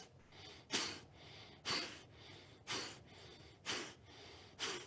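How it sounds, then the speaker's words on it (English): Breath of fire yoga breathing in a Kundalini boat pose, with legs, arms and head lifted: five sharp, forceful exhalations about one second apart, each a loud nasal puff followed by a quieter inhale, close and alone. "try to add a little breath of fire"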